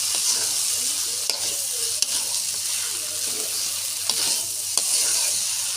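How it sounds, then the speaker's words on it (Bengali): Noodles stir-fried with potato and egg crackle in a continuous hot sizzle, with occasional sharp utensil clicks against the pan over a faint low hum. "সুন্দর করে নাড়াচাড়া দিয়ে নুডলসটা আলু ডিম মিশিয়ে ভেজে নিব।"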